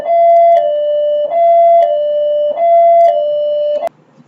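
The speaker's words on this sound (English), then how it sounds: "they were ringing the bell, so I had to pause it" A house doorbell rings in a repeating pattern of sustained electronic tones broken by short chime accents, four cycles in a row, clear and alone before it stops abruptly.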